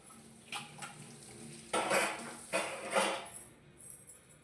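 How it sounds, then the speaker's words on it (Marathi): Kitchen utensils being scrubbed clean, with a few scattered clinks and scraping rubs of metal dishes, close by and fairly quiet, in short irregular bursts. "सो किचनान येयलें, क्लीन केलें आनी थोडीशीं आयदनां जी कितें आसलीं ती घासून घेतली."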